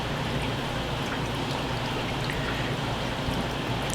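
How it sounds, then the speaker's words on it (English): Air stone bubbling steadily in an aquarium holding red eye tetra eggs: a dense, continuous fizzing and gurgling wash, close and even in level, with no voices. "we're going to move an air stone in here and let that air stone sit in there so it can kind of keep the water"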